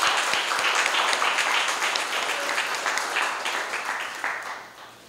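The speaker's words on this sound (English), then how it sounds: "Let's give him another round of applause." An audience at a naturalisation ceremony claps in dense, sustained applause filling the hall, gradually tapering off toward the end.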